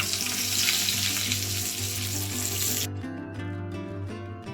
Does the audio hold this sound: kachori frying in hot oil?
yes